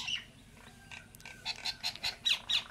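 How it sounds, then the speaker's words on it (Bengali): A flock of birds, mynas among them, calls from nearby in a quiet rural yard, sharp bright chirps and squawks that build into a run of louder, evenly spaced cries. "বোনা পাখি, শালিক পাখি সব এসছে এক দল। দেখো সব কীরকম ডাকছে দেখো।"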